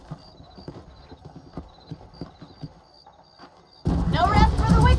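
Horse hooves clip-clop steadily in Red Dead Redemption on PC, a brisk even rhythm at moderate distance, before a loud burst of noise and music cuts in near the end.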